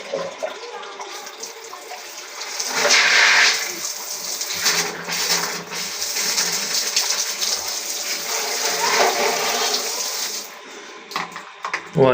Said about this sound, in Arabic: وهاي هي الشطافة.